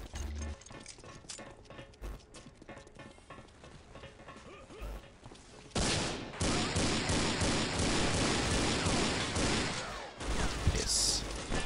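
Wilson shotgun revolver from the Ballistic Weapons mod for Unreal Tournament 2004, firing sharp booming shots at uneven intervals before the scene erupts into loud, sustained combat noise.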